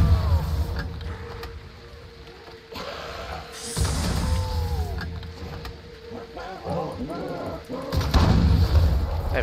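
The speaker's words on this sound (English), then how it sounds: "the bullets ricochet on the fun-sized gun" Gunfire from the fun-sized gun in Call of Duty Black Ops 3 Zombies, with ricocheting bullets: several loud, booming shots and mechanical clanks mixed with game effects and talk.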